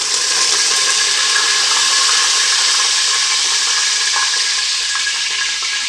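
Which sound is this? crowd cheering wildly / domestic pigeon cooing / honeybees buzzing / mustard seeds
mustard seeds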